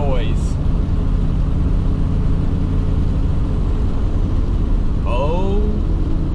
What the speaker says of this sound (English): holy crap, that turbo noise